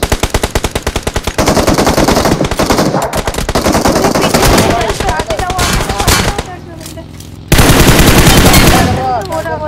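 Heavy automatic gunfire from the BGMI battle royale game, loud rapid bursts of shots in quick rhythmic volleys, with a brief lull before another dense burst resumes.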